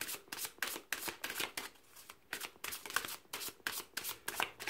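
Tarot cards being shuffled, a quick rhythmic run of soft papery riffles and flicks repeating steadily at close range, fairly quiet, with no talking.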